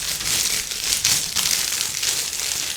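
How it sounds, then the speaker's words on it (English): Plastic Lego bags crinkled and handled close up, giving a few seconds of dense, continuous crackling and rustling with small surges in loudness. "Crinkling bags."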